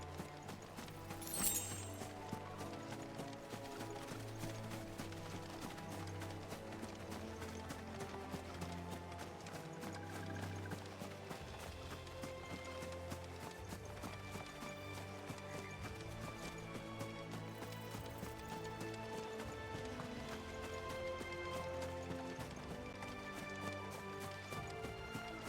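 Horse hooves clip-clop in a steady galloping rhythm while riding in Final Fantasy VI, continuous under a dense layer of game music with no talk.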